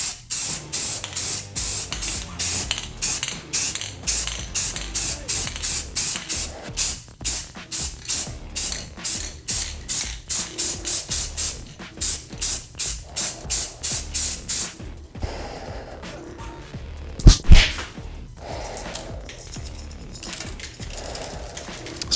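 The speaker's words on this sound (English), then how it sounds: "you spray your black base" Rapid bursts of spray paint hiss in quick repeated pulses, close and fairly loud, then longer sprays with a brief clatter near the end.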